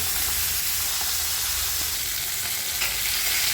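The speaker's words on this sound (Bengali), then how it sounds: "এবার এক একটা করে মাছ দিয়ে দিচ্ছি" Pieces of bhola fish frying in hot oil, a loud, dense, unbroken sizzle and hiss heard up close, steady throughout with no voices.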